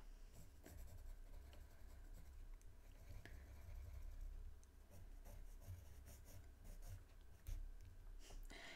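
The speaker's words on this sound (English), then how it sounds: "Typical Prismacolor pencil." A Prismacolor colored pencil drags across paper in close, quiet, scratchy strokes, with irregular bursts of rubbing and tapping as the drawing continues.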